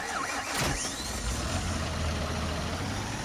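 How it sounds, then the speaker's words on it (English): Farming Simulator 19 tractor engine idling at a steady low rumble, with a brief louder burst near the start as it revs, then a constant drone. "So let's grab a tractor. We'll grab this beast"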